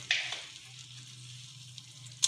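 Spice masala and five small cardamom pods fry briefly in hot oil, a soft steady sizzle with a faint low hum underneath and a couple of light clinks, no talking.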